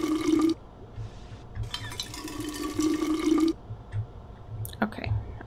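Water splashes and pours in bursts while water is cleaned in the video game We Happy Few, with liquid sloshing and dripping sounds and a brief bubbling gurgle near the end.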